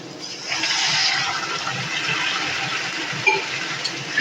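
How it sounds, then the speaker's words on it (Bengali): Hot water poured into a pan of frying tengra fish for a Bengali chorchori, a steady rushing hiss and splash that holds for about four seconds without a break, close and moderately loud, with no talking. "এখন আমি এর মধ্যে দিয়ে দেব একটু জল। জলটা কিন্তু অবশ্যই গরম জল দিতে হবে।"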